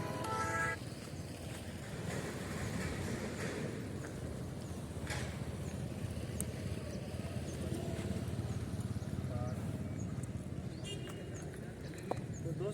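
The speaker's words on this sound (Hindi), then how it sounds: "मैंने इसको पैर उठा के हल्का सा झुका दिया, इसने एक पैर ज़मीन को लगा भी दिया।" A horse being trained to bow, shifting and setting a hoof down amid soft, irregular steps and clip-clop sounds outdoors, under steady background noise with scattered voices and brief tonal bursts.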